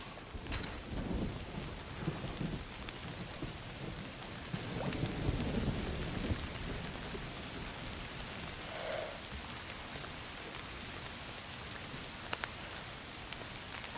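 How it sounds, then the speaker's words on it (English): Steady video game rainfall in Indiana Jones and the Great Circle pours continuously at moderate level, with faint rumbles in the background and no talking. "Don't you love rain?"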